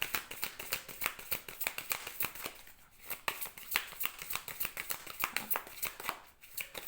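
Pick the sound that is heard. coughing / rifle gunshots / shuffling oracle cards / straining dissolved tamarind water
shuffling oracle cards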